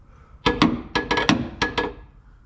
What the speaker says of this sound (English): we're gonna use a gentle tap of a hammer and a 2x4 and get this kind of forced into place